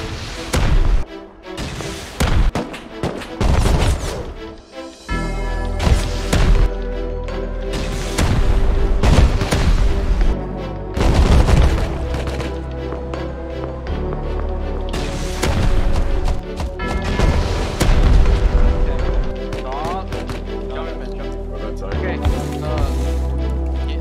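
Rocket explosions in the survival game Rust hit in heavy, booming bursts, one after another at close range, with deep rumbling impacts and debris crackle filling most of the stretch and no talk over it.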